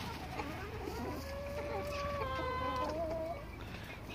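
Rooster and hens clucking in a backyard chicken coop, several calls rising and falling over steady farmyard background, with a longer drawn-out crow-like call in the middle.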